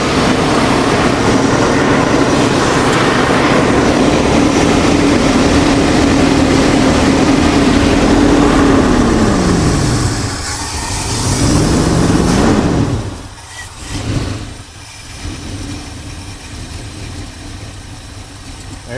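An engine-swapped 1975 Chevrolet Silverado runs with a loud, steady rumbling idle that dips and wavers in pitch partway through before quieting, recorded close to the truck.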